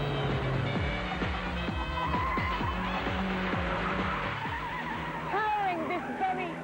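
An Ariel Atom with a 1.8-litre K-Series engine drives hard, its engine rising and falling through repeated gear changes, loud and close, with tyre noise and a voice talking over it.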